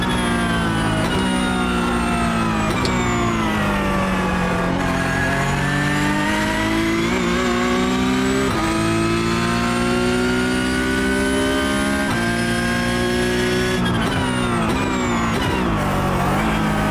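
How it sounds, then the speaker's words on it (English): A Porsche 992 Cup race car engine in iRacing revs loudly at Imola, pitch climbing through gears and dropping at each shift, with a synthetic, game-like tone throughout. "I hate when you hear the engine revs drop like that"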